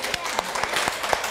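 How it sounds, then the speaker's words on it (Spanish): A small group claps briefly in a classroom for two students, a short burst of light applause with overlapping talk. "un aplauso para ustedes dos"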